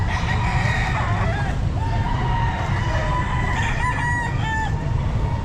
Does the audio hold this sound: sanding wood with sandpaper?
no